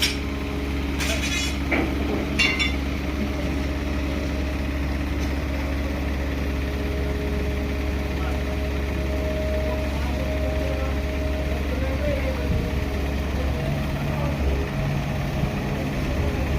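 A water pump motor runs nonstop at a 40-foot well, a continuous low mechanical hum and drone that holds steady throughout, with faint voices now and then in the background.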